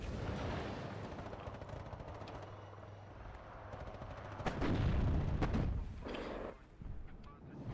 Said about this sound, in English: So, it's an interesting bombing run.